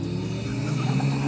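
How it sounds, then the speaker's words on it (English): Ariel Atom 4 engine building boost under acceleration, a steady close, loud mechanical whir with a low droning rumble and a faint high turbo whine layered over it, running continuously with no talk. "you can hear the turbo working away"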